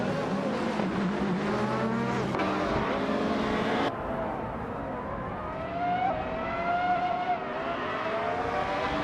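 Race cars in a video game, including a 2016 Hyundai Elantra on pole, launch off the line at Algarve with loud, dense engine roar and whining revs that shift pitch, sustained throughout with no talk.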